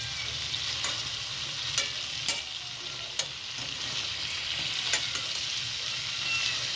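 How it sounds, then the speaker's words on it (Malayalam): Tuna pieces sizzle steadily in a hot frying pan, a dense even hiss broken by a few sharp clicks and scrapes as the fish is turned over. "അപ്പോൾ ഇത് ഒരു സൈഡ് മൂത്തിട്ട് നമുക്ക് തിരിച്ച് മറ്റേ സൈഡ് മൂപ്പിക്കാം."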